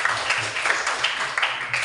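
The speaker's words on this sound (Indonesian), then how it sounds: "tepuk tangan untuk Nana ya" Classroom applause for a student named Nana, a steady burst of children clapping together, fairly close and lively, lasting about two seconds with uneven rhythmic peaks.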